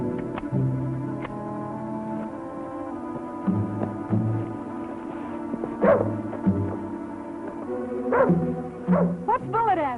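A dog barking and yipping at something treed outdoors in an old western TV show, several bark bursts over a music score and hum, with a few voices.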